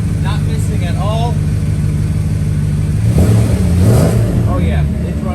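A Mercedes W140 engine idles smoothly just after starting, a steady low hum with a brief rise in revs midway, while someone talks over it nearby.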